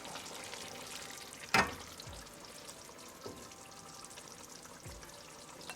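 Lamb and potato curry spooned from a pot into a serving bowl, with one sharp utensil clink followed by soft, low scraping scoops over a steady background hiss.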